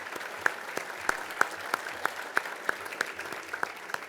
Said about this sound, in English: Big round of applause for all of our sponsors for making tonight possible